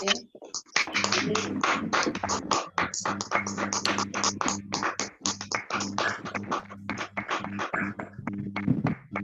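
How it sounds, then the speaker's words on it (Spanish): Applause from an audience at a talk or gathering, dense continuous clapping for about nine seconds, fairly close and steady, with voices talking underneath. "Un aplauso."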